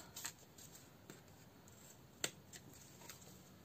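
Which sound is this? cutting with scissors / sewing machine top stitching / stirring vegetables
cutting with scissors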